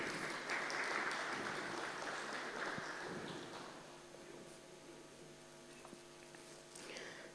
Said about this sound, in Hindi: तालियों के साथ हम इनका स्वागत करते हैं।